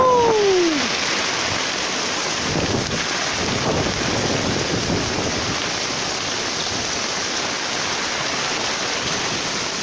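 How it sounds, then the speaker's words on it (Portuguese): Heavy rain pouring in Brazil's Potiguar region, a dense, steady roar of falling water that fills the whole clip with constant broadband hiss. "Chuva boa, chuva boa!"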